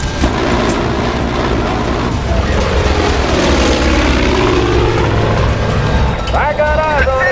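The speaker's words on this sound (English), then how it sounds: "You got some choppers flying your way." Helicopters drone overhead in the Far Cry 5 video game, a loud, continuous rotor and engine roar that sweeps past, with in-game voices talking over it.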